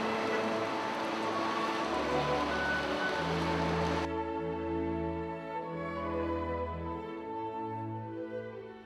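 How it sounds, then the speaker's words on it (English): Rushing water cascades through a river side lock in Bamberg, Germany, roaring steadily, loud and close, with low rumbling underneath; midway the wash thins and a softer trickling flow continues. "The city river lockage is a unique side lock, with cascading water providing a melody."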